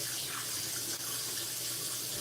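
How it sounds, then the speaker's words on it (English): Tap water runs steadily over meat pieces being rinsed in a kitchen sink, a continuous close splashing stream with a brief dip midway. "So, I rinse my pieces off."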